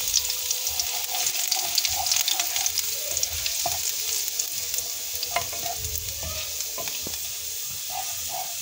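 Garlic fries in melted ghee in a frying pan, a continuous close sizzle and crackle broken by occasional clinks of stirring, with no one talking.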